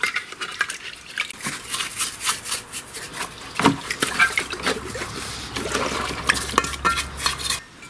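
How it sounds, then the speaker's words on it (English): Scrubbing out the sludgy oil sump of a lawn tractor engine with a paintbrush and parts cleaner: brisk wet brushing and scraping strokes with light clinks of the metal pan, close and continuous, with no talk. "with some parts cleaner and a paintbrush, I'm going to clean it out thoroughly"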